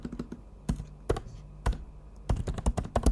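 Keys clacking on a laptop keyboard in irregular bursts, a few isolated taps followed by a quicker cluster of strokes, close and fairly quiet with no talking.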